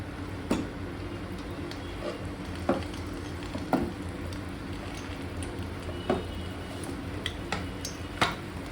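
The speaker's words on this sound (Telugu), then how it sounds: "ఈ ఆయిల్ ఒకసారి హీట్ ఎక్కగానే దీనిలో ఉసిరికాయలు వేసి వేపుకుందాం" Gooseberries fry in hot oil in a pan with a steady soft sizzle, punctuated by scattered ticks and pops at irregular intervals.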